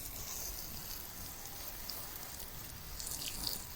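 Water gently sprinkled over freshly sown celery seedlings, a soft continuous rain-like patter at low level throughout.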